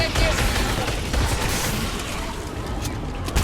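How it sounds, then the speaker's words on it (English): Dense gunfire in the Fortnite video game, a continuous rattle of shots with booms mixed in, loud and steady throughout. "someone shooting me"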